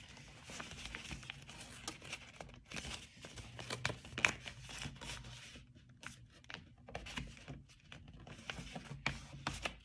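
Sheet of paper folded and creased by hand to cut a snowflake, giving close, irregular crinkles and sharp crackling creases over a low background rumble.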